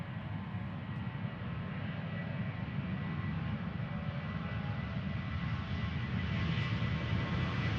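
A Norwegian Boeing 737 in the Helge Ingstad tail livery departs Amsterdam Schiphol for Stockholm, its engines a steady, broad roar that builds slightly over the whole stretch, with no pauses.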